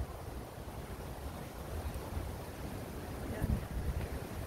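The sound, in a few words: strong wind blowing outdoors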